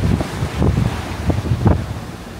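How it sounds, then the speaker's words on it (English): Heavy wind buffets a ship's deck at sea, with rough microphone rumble and surging swells of wave wash beneath it, loud and continuous. "the waves look pretty flat on the screen here, but in real life they're quite high"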